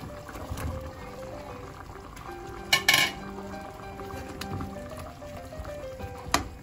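Eggplant pieces going into simmering coconut milk in a cooking pot for Bicol Express, with a sharp clatter and clink of a utensil against the pot midway and another knock near the end over a quiet kitchen background.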